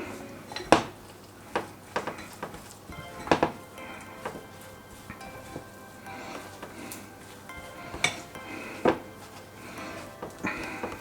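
Ingredients for a pork tenderloin croustade being mixed in a dish with a small silicone spatula, giving irregular clinks and taps against the dish over a soft scraping bed, close and moderately quiet.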